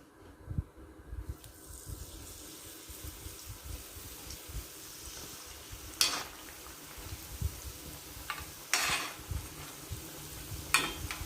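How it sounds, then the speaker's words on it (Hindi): Rice-flour veg spring rolls frying in hot oil give a low, steady sizzle and bubbling, with occasional sharper crackles and utensil scrapes close by, and no talk. "हमारा तेल गर्म हो गया। अब हम इसमें स्प्रिंग रोल डालते हैं।"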